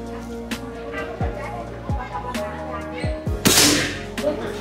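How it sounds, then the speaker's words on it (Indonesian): An SR500 Tactical regulated PCP air rifle fires its final test shot: a sharp, short crack with a hissing burst, heard near and loud against faint background noise and scattered clicks. "Kita coba untuk tembakan yang terakhir atau tembakan yang keempat."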